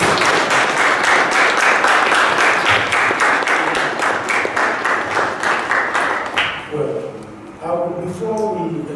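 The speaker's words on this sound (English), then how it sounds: "Well, let's give another round of applause to Visitor Ambassador Mabeta." Loud, dense audience applause at an event honouring a visiting ambassador, filling most of the clip before fading, after which a voice speaks over the last few seconds.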